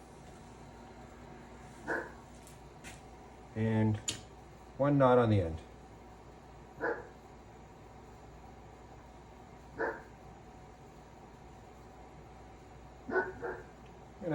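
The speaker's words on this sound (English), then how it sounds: "I'm gonna have to go see why my dog is barking." A dog barks in short, scattered bursts at a moderate distance, with a brief spoken phrase and quiet stretches between the barks.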